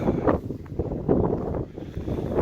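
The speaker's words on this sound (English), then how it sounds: "the wind is even worse up there" Strong winter wind buffets the microphone on a high mountain summit above 11,000 feet, a steady rough roar with surging gusts, close and loud throughout with no voices.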